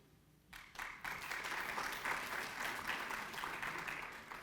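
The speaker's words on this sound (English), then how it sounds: "We give all of our students at College of Agricultural Life and Natural Sciences a round of applause" An audience at a master's hooding ceremony for the College of Agricultural Life and Natural Sciences bursts into applause after a brief quiet moment, then keeps clapping loudly and steadily, a dense wash of many hands.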